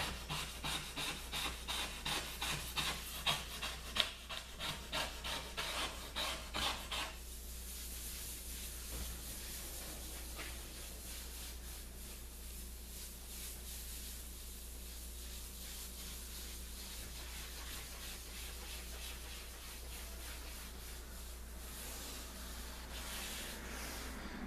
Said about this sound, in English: Then I'm just going to use my razor blade.